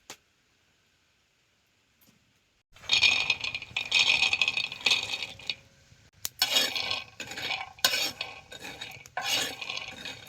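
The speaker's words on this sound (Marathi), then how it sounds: "तवा चांगला तापलाय तर शेंगदाण चटक्यात भाजणार आहे." Peanuts roasting on a hot iron griddle (tava) are stirred and scraped, giving a busy rattling, scratching clatter that starts after a near-silent pause and keeps going close by with short breaks.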